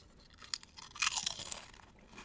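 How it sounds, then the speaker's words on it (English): Crisp potato chips crunched between the teeth, a few sharp bites followed by a louder burst of chewing, close to the listener and not very loud, with no talking. "There you go. The big crunch."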